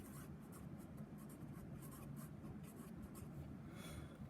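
Marker or chalk scratching steadily across a classroom board during a precalculus lesson, a continuous run of close, dry strokes with no talking.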